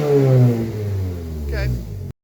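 A Polaris Slingshot with an aftermarket dual exhaust revs up loudly and close by, then the engine note falls away as the throttle closes before the sound cuts out abruptly.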